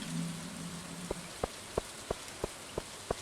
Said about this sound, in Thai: ฝนตกนี่มันดีจริง ๆ